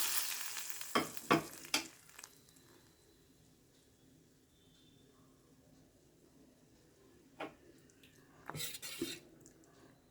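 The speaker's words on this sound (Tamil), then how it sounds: "இப்போ தாளிப்பை கட்டிடலாம்" Tempering spices crackle in hot oil for idli sambar and onion chutney, with a burst of sizzle at the start, several sharp clanks of a pan and spoon, then quieter spattering and more clatter near the end.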